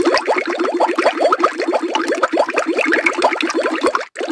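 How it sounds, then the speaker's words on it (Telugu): Water from an animated fountain in an animals-crossing scene, a steady bubbling, splashing flow that is dense and continuous throughout, briefly cutting out near the end. "ఇక్కడ వాటర్ సౌండ్ బంద్ చేసిన కదా"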